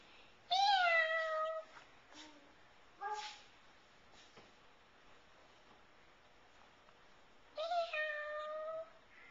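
A cat meows clearly twice, a few seconds apart, with faint small sounds in between in a quiet room.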